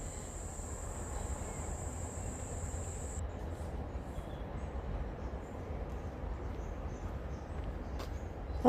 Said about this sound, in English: very noisy cicadas.